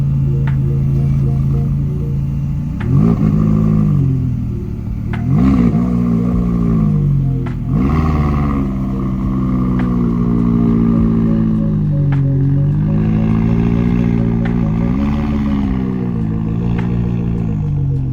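A McLaren sports car engine revs in several rising, throaty bursts up close, then settles into a steady rumbling drone and pulls away.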